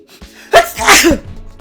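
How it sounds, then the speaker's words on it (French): A single loud sneeze, with a short intake of breath before the burst, up close. "Oh, je vais éternuer là."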